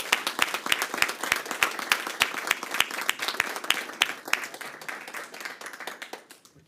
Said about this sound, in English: A round of applause for all the folks.